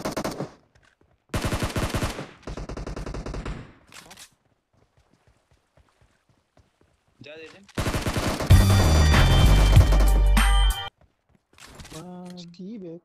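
Bursts of VSS rifle gunfire in the PUBG Mobile battle royale game, several rapid volleys separated by pauses, with a louder, denser barrage near the end and faint game sounds between.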